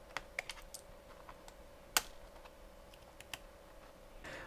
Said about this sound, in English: we're pushing the plastic casing essentially that exists between all these keys